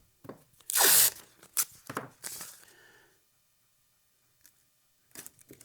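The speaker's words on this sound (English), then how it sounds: "We'll just put 2 layers of tape on here." Adhesive tape rips loudly off the roll in one long tear, then several shorter pulls and crinkles follow as it is pressed down in layers. A quiet gap comes next, then a few faint taps.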